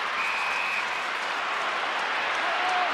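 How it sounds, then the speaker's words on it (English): A football crowd at a 2008 AFL match between North Melbourne and the Western Bulldogs roars and applauds in a steady, dense wash of noise that holds at full strength for a few seconds. "Crowd roar."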